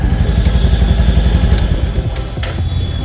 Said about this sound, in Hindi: यहाँ पर आपको भारी भरकम आवाज़ सुनाई देगी जिससे लगेगा कि आप रॉयल इनफील्ड मेटियोर 350 चला रहे हो